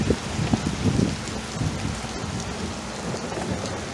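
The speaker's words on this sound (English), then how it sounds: "It poured down raining on us." Heavy rain pouring down on and around a jon boat out fishing, a dense steady roar of drops with some heavier patters up close, continuous and fairly loud throughout.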